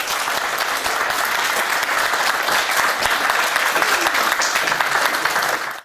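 Loud, dense applause fills the hall at a black belt grading, with many hands clapping steadily for several seconds before cutting off abruptly.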